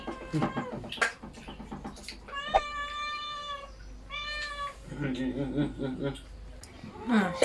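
A cat meows several times with clear, drawn-out tonal cries, close by, amid Thai speech and some chuckling from people nearby.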